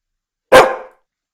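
A dog in the Minecraft video game gives a single loud, close bark that cuts off quickly, with no talking around it.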